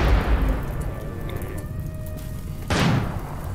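Rain in the video game RimWorld makes a soft, steady hiss of falling drops that runs throughout. A sudden low boom from an exploding turret cuts in near the end.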